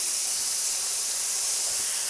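Water hits a hot Blackstone griddle holding broccoli and flashes into a loud, steady hiss of steam that fills the whole moment without a break, and no voices are heard over it.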